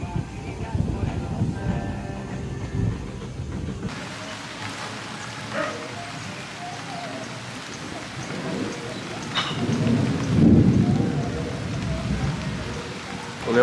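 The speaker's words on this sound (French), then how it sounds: "il se met à pleuvoir" Steady rain falls outdoors on a remote tropical stretch of coast, a continuous hiss with low rumbling swells from thunder, loudest near the end, while a voice speaks faintly beneath.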